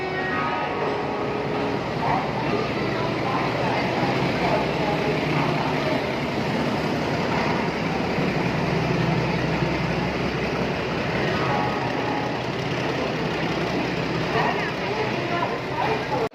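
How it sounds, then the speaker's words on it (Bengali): The Saraighat Express pulls into a station, a steady broad rumble and roar of the approaching train filling the whole scene, with people talking over it. "ওই যে ট্রেন ঢুকছে"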